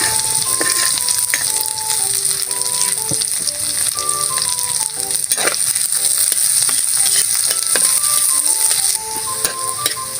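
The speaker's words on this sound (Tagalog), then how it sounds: "Sunod na natin yung sibuyas. Sabay lang natin yung sili." Onion and chili fry in a pan with a loud, continuous close-up sizzle and crackle, while a light melodic tune plays quietly underneath.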